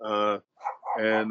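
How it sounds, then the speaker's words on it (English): A dog barks close by, two or three sharp barks separated by a short gap, and a voice is briefly heard with them. "Apologize for the barking."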